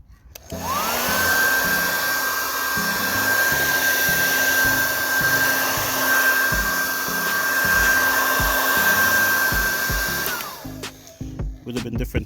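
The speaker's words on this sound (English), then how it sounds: "Just using the hairdryer just to make sure it doesn't run." A hair dryer drying paint on the black alloy rim of a Tesla Model X blows loud and close with a steady whine for about ten seconds, then clicks off into quieter handling noise.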